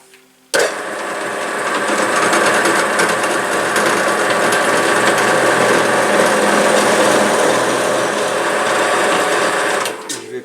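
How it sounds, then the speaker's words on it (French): An electric drill bores pilot holes in cherry wood for a bedside shelf, starting abruptly and whining steadily at close range for about ten seconds before spinning down, with no talking over it. "Je vais percer, faire des avant-trous pour cacher la tête de vis déjà"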